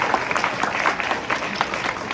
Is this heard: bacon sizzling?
no